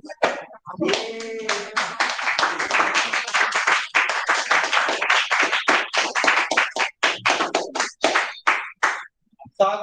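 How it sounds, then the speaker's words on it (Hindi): A class 10 biology class of students claps together, a loud run of sharp, dense handclaps, close and continuous for several seconds, thinning to scattered claps near the end. "सर तालियां किसके लिए बज रही है सर?"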